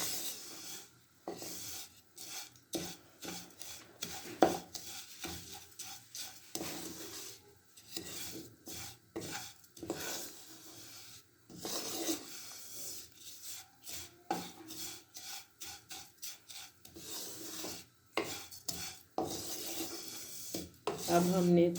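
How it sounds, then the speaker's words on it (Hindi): Vermicelli roasting in a pan, a continuous dry scraping and rasping as a utensil stirs the strands against the metal, close and steady with occasional louder scrapes and no talk. "अब हमने तकरीबन 10 सेकंड सेवइयों को भूना है"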